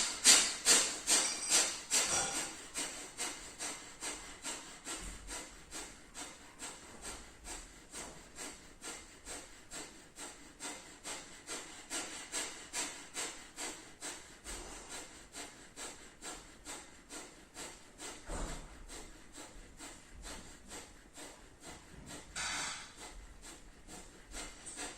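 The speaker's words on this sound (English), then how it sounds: "And then continue to do Kapalbhati Pranayam." Forceful Kapalbhati yoga exhalations pulse in a fast, even rhythm, dozens of sharp breathy bursts close to the mic at a steady pace for the whole stretch, quiet and without talk.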